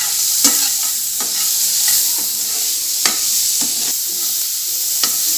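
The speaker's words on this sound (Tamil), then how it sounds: "வெங்காயம் வந்து சீக்கிரமாக வணங்கணும்னா சிறிதளவு உப்பு சேர்த்திக்கலாம்" Onions sauté with a little salt in a pan for pudina chutney: a steady close sizzle broken by regular clacks of a spoon stirring and scraping.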